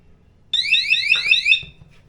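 A smart water shutoff leak sensor sounds its alarm, a loud rapid high-pitched electronic trill that starts abruptly and runs for about a second and a half before stopping.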